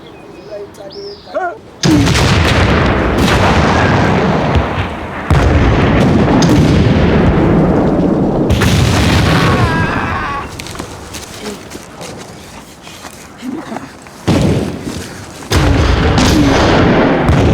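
Loud, booming cannon blasts and rumbling artillery fire, roaring in long sustained bursts with brief pauses between volleys.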